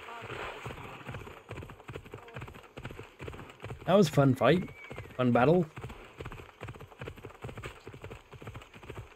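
Horse hooves clip-clop at a steady galloping rhythm in an Assassin's Creed Odyssey game on PS5, running under someone talking, with brief louder combat or voice bursts in the middle.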